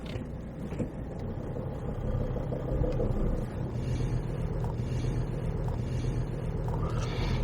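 A car drives slowly through a supermarket car park, its engine giving a low, steady rumble close by, with faint passing traffic and bumps now and then, and no talk.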